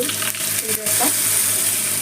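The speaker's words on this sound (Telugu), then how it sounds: "మంచిగా మనము తాలింపు వేసేసుకుందాం." Tempering of chana dal and curry leaves sizzles in hot oil for a green leaf chutney, a steady loud crackling hiss with a few stirring knocks early on.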